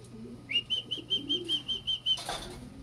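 Pigeons in a training loft give a run of soft, rhythmic wing flaps and low coos, close by, with a brief rustling burst at the end and no talking.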